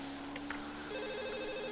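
A faint electronic cell phone ringtone from the visual novel game Katawa Shoujo plays as a continuous tonal pattern for nearly two seconds, with no talking.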